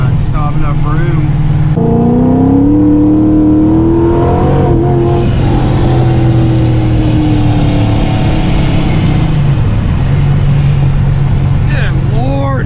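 A car engine with a wrong spark plug gap revs hard at about three-quarter throttle, very loud and close, the pitch climbing and holding with a rough drone underneath. A voice comes in briefly near the end.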